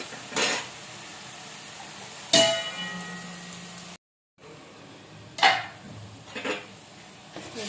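Chicken fry being stirred in a metal pan, with a few sharp clangs and scrapes of the spatula spaced across a faint background sizzle and one brief silent gap. Close by, no talk.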